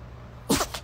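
A pet cat gives a quick, soft sneeze indoors: a short close burst followed by a fainter second puff, then quiet.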